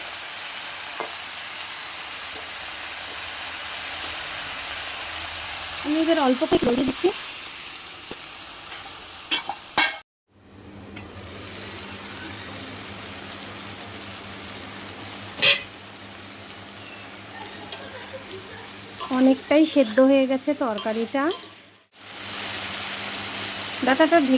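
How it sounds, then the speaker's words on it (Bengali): Ash gourd stem chorchori cooks in a pan with a low sizzle and intermittent stirring scrapes, broken by a couple of brief silences. A car horn sounds in the background, and there are occasional other background noises. "আমি এইভাবে নাড়াচাড়া করে রান্না করে নেবো"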